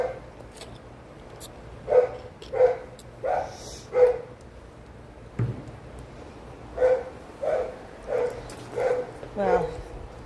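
Dogs bark at home, a series of sharp separate woofs in two clusters, close and loud, with a person talking in between.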